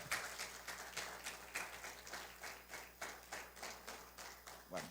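A church congregation claps together in steady rhythm, many hands beating in a fairly quick, even pulse that carries on throughout, moderately loud in a reverberant hall with a low hum underneath.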